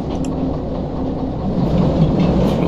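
A train rolls along rails in the Derail Valley simulator, a steady low rumble that swells slightly toward the end, with no talking.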